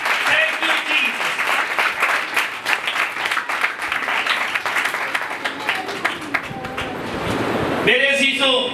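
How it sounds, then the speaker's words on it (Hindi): Congregation at a church service applauding, dense sustained clapping from a crowd for several seconds, mixed with voices, before a brief spoken line at the end. "ऐसे खुदा के लिए जोरदार तालियां"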